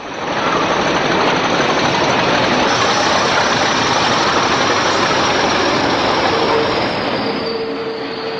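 A British Rail Class 40 diesel locomotive departing Darlington with a train to Newcastle in 1975, a dense, steady engine and wheel rumble close by, with a thin wheel squeal creeping in near the end.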